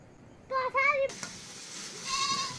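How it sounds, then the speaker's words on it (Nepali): A goat bleats outdoors near a village home, two close wavering cries in quick succession followed by a fainter third bleat, with a brief knock between them. "बाख्राले बाहिरबाट ब्याकग्राउन्ड म्युजिक पनि दिएको छ"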